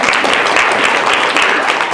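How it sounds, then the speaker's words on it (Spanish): An audience applauds in a lecture hall to welcome a scientist to the stage, a steady, dense burst of clapping throughout. "os pido un gran aplauso para darle la bienvenida al doctor Ramón Risco de Gano"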